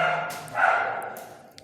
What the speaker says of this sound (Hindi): कुत्ते क्यों भौंक रहे हैं यार इस टाइम रात में?